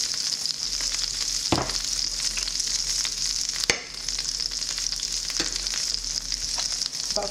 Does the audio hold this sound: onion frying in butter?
yes